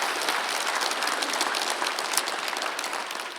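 A church congregation at a Sunday worship service claps together in a dense, continuous burst of applause, loud and sustained, tapering slightly at the end.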